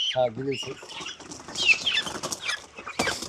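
Broiler chickens cluck and squawk inside a poultry shed, with a sharp close call at the start, wings flapping and scattered bird noises following, while people talk nearby.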